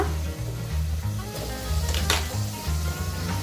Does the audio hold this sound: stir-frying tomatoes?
yes